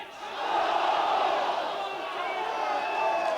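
A football stadium crowd at a 1994 FA Cup third-round tie between Stockport County and QPR rises into a sustained roar that swells and holds, a broad distant wash of many voices.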